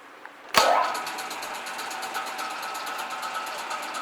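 A shop machine motor clicks on with a sharp switch sound, then settles into a steady whirring hum with a faint rhythmic ticking as it keeps running, close by with no talk.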